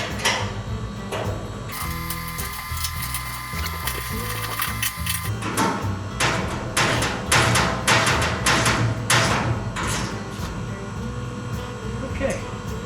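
Quick clicking ratchet strokes from a wrench tightening fittings while setting up a Featherman poultry scalder, several short bursts with mechanical rattles and a steady background hum, voices talking now and then.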